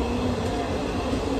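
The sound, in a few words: Hubballi to Dadar Express train running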